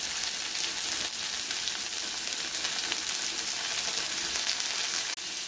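Bitter gourd (karela) fries in a pan with salt, turmeric and chili powder, giving off a steady, dense sizzle that runs unbroken throughout, with no talking.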